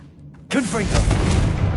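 A Confringo blasting spell explodes in Hogwarts Legacy. It starts as a sudden loud burst after a quiet moment and rolls on into a sustained rumbling blast, with a short voiced sweep riding over its start.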